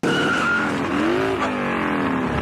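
In a 1994 action film scene, a motorcycle rides into a hospital with loud tire skidding and squealing over an engine roar, intense and close throughout.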